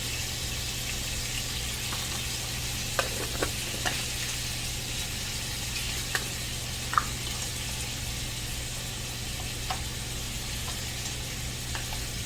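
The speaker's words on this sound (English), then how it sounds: "I'm going to turn this down because we're just going to let it simmer after this" Sloppy joe mixture simmering in a pan over turned-down heat, a steady soft sizzling hiss with a low hum beneath and a few faint clicks, no voices.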